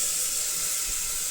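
Tempering sizzling in hot oil for bele sambar: a steady, bright hiss of frying spices, close and fairly loud, unbroken for the whole short moment with no talk.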